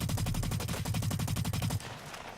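Rapid automatic gunfire from a first-person shooter game on PlayStation 4, a dense, loud burst of rhythmic shots for nearly two seconds that stops abruptly, leaving a quieter tail.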